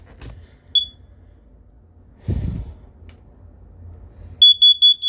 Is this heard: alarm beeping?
yes